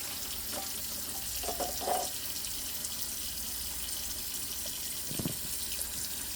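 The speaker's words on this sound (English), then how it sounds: "of course you can see I am draining as I rinse" Tap water runs steadily over food being rinsed and drained in a kitchen sink, a continuous splashing hiss with a few louder clatters partway through.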